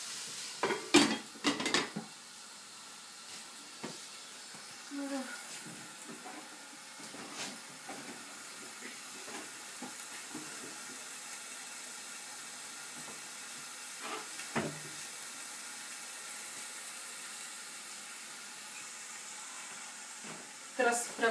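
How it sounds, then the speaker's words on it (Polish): Food braising in a covered pan for a Chinese dish: a soft, steady sizzle and bubbling hiss runs throughout, broken by occasional clinks of utensils and pan, faint and close. "Teraz dusimy przez około 5 minut."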